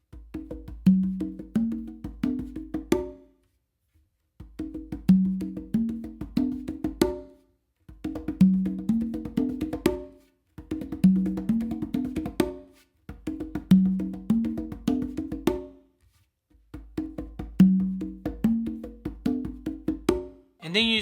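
A full conga warm-up spread across five drums, including the quinto, cycles six times: rolling taps and open tones in phrases of about three seconds, separated by brief pauses, close and resonant.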